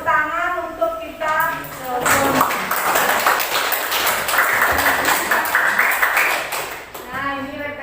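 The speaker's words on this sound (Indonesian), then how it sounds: "Tepuk tangan untuk kita." A class of students in a middle school social studies lesson in Kediri, Indonesia, claps for several seconds, a brief burst of applause framed by a speaking voice before and after.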